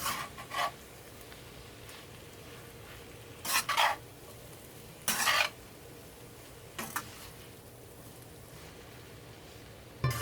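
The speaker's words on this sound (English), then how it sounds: "Now you want to stir it to get the shrimp distributed throughout the noodles." Shrimp lo mein noodles stirred in a hot pan, a faint steady sizzle broken by several short scraping strokes spaced a second or two apart, with no voices.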